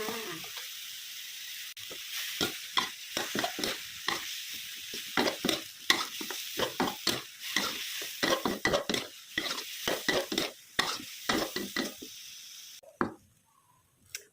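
Holy basil leaves being stir-fried in a hot pan, with a steady sizzle and rapid, repeated scraping and clacking of the spatula against the pan that stops near the end.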